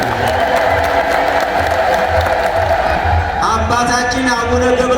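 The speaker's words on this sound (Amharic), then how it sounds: "እልልታውን ጨምሩበት" A crowd ululates at a religious celebration honouring Abune Gebre Menfes Kidus. Sustained, shrill trilling voices blend with cheering throughout, loud and dense, and the pitch shifts upward near the end.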